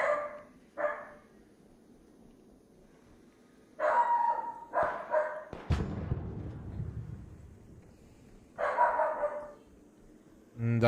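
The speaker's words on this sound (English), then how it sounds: "Doggo's barking." A dog barking in a Counter-Strike match, a few short sharp barks in scattered bursts with a thud and rumble between them, heard under quiet game ambience.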